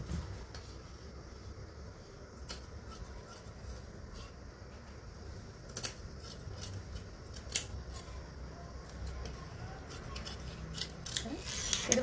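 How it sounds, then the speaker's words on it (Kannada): Scissors cutting fabric for a kurti, with a steady close-up rasp and scattered sharp snips and rustles over about twelve seconds, fairly quiet and without talk. "ಅಥವಾ ಡೈರೆಕ್ಟ್ ಕಟ್ ಮಾಡಿದ್ರು ಅಡ್ಡಿಲ್ಲ, ಹಾಗೆ ಸ್ಟ್ರೇಟಾಗಿ ಕಟ್ ಮಾಡಿ."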